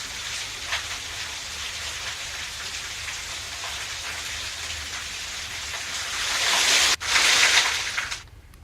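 Steady rain pours down in Jabalpur, India, a dense hiss of drops on surfaces that swells louder near the end before cutting off abruptly.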